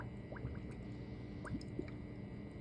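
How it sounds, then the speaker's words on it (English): Water is scooped into a sample bottle during collection, with soft close squishy gurgles and drips in several short bursts at low level. "all you have to do is just scoop the water into the bottle."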